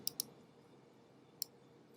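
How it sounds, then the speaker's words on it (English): Mouse button clicked twice in quick succession, sharp and close, then a single click about a second later, over a quiet room during photo editing. "if I double click the mouse, that finishes my crop for me"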